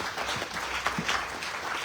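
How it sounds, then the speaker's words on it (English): Audience applause after prayers at a Ganesh Utsav celebration, a brief burst of dense crowd clapping heard fairly close and steady throughout. "Please give Panditji a round of applause."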